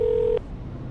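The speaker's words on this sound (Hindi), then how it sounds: "अपने डैड को कॉल लगाया और फोन का लाउड स्पीकर ऑन कर दिया।" A phone call being placed on loudspeaker from inside a car, heard as a single steady electronic tone that cuts off sharply partway through, followed by quiet background hiss.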